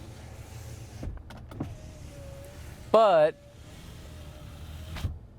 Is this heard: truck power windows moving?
yes